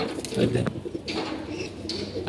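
Pigeons coo in a rainy-day loft, soft rolling calls close by with light background noise and no clear talk.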